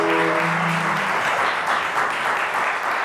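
An audience at a Romanian comedy show breaks into dense, continuous applause that holds a steady level, and a brief tonal hum sits under it near the start.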